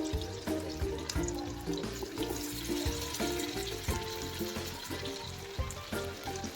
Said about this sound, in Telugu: ఇప్పుడు ఫిష్ పీసెస్ని ఈ ఆయిల్లో పెట్టుకోవాలి